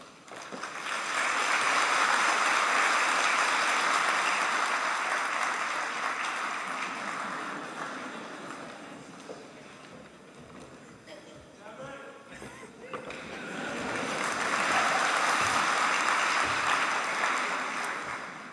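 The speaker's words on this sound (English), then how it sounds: "You can practice applause at this point." Audience applause at a university law graduation ceremony, a broad sustained roar of clapping in a large hall that swells, dips to scattered claps mid-way, then builds again to full strength.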